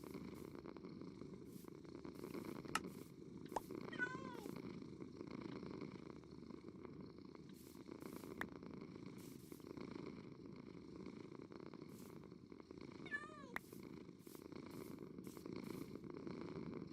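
A cat purrs steadily and softly in a Minecraft game, a continuous low rumbling texture with brief faint game sounds and a couple of tiny meows mixed in, no speech.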